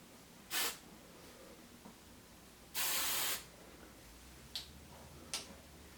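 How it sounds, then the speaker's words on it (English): Hairspray is sprayed onto hair in short close hisses, a brief burst, then a longer spray lasting over half a second, with a couple of faint quick puffs near the end in an otherwise quiet room. "You can just take a little bit of hairspray, because all these little flyaway hairs, you just want to take care of those"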